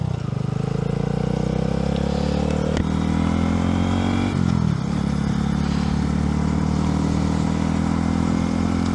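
A Honda Grom motorcycle rides steadily along in South Florida, its engine droning loud and close, with a short dip and recovery in pitch midway as the throttle eases, and no one talking.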